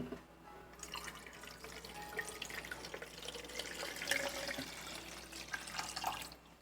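Water is poured steadily into the reservoir of a Chemex Ottomatic coffee maker, a soft continuous trickle and splash running for several seconds at low level with no talking.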